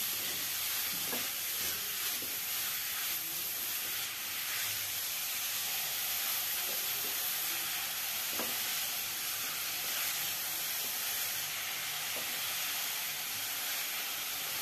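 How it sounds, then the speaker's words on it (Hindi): Pumpkin pieces roasting in ghee over a high flame make a continuous hiss and sizzle, broken by occasional soft scrapes of stirring, with no one talking. "अब इस स्टेज पे पम्पकिन को डाल देंगे और इसे बराबर चलाते हुए भूनना है"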